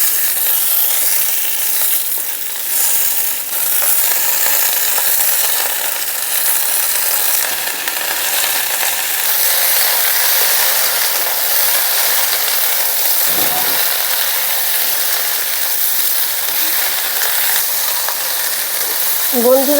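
Vegetables with ginger paste sizzle steadily in a hot pan for a puti fish chorchori, a loud continuous fry with occasional stirring scrapes and no talking.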